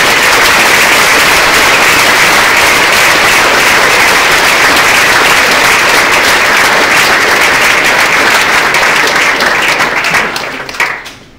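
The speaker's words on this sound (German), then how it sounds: "Ein großer Applaus nochmal" Sustained, dense audience applause at a racing team's EDGE13 car rollout event, loud and steady throughout before tapering off at the very end.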